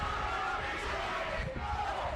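A midweek crowd at Keyworth Stadium during a Detroit City FC versus FC Buffalo soccer match, a steady distant roar of voices and chanting filling the ground without pause.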